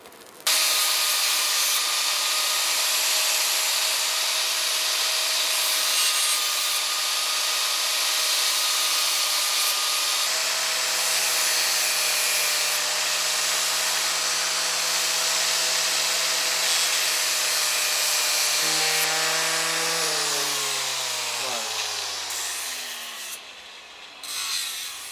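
A hand-forged iron knife is sharpened with long continuous grinding and rubbing strokes, a loud sustained rasp with a steady tone that drops in pitch toward the end before stopping. No one talks.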